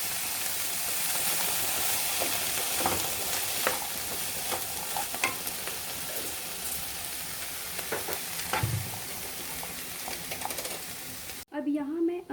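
Vegetables sautéing in a pan over a high flame, a steady sizzle with scattered stirring clatters and scrapes running throughout, ending in a brief pause and a short different sound at the close.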